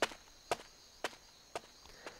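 Five evenly spaced video game footsteps on stairs thud one after another at a steady walking pace, close and clear against a quiet background.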